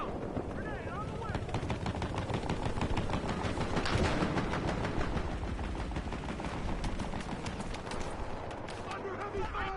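Dense, rapid automatic gunfire rattles without pause in a Black Ops 3 team deathmatch on the Man-O-War map, loud and close, layered with overlapping bursts and scattered battle noise.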